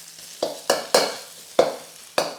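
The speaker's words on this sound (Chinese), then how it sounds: "那你就炒一下。" Sauce paste being stir-fried in a hot pan, sizzling in repeated sharp scraping bursts about every half second as the spatula turns it.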